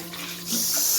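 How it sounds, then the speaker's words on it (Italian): Tap water runs steadily over cuttlefish being rinsed in a kitchen sink for squid-ink risotto, a soft trickle that swells into a fuller, louder rush halfway through. "fateci scorrere l'acqua sopra"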